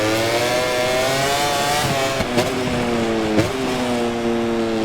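Racing motorcycle engines in the MotoGP 24 video game at the Italian circuit scream at high revs, the pitch climbing and then dropping sharply at gear shifts, loud and steady throughout.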